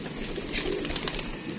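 A pigeon coos softly up close in a short, low, rolling burble, with no talking over it.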